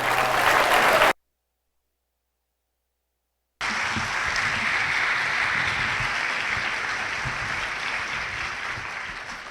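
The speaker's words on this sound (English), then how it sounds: "Please give a huge applause to my good friend, Peter Metcalf." A crowd at a citizens' hearing on a public lands initiative in Salt Lake applauds in sustained, dense clapping, cut by a few seconds of silence before resuming steadily and slowly easing.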